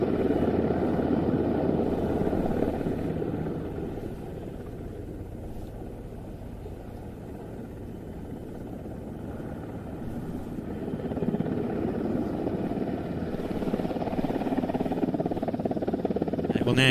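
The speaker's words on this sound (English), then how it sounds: "The aircraft now turning backwards, flying backwards, and it's time for a very challenging manoeuvre." A display helicopter flies backwards through a reverse manoeuvre at an air tattoo, its rotor and engine droning at a distance, fading in the middle and swelling again, under a commentator's voice.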